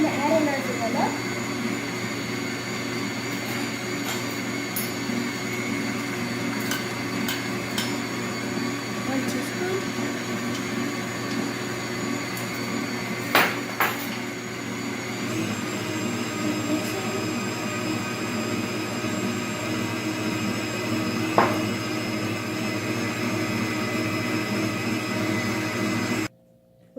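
An electric mixer whirs steadily through a bowl of creamed egg, sugar and vanilla for cookie dough, a continuous motor hum with occasional clicks and scraping knocks near the end before it stops abruptly.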